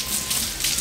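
Tap water runs steadily while hands are rinsed under it, a soft continuous wash close by with no other sounds.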